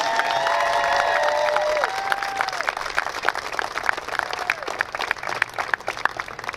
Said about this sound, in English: Let's kick things off with an enthusiastic round of applause for our graduating seniors.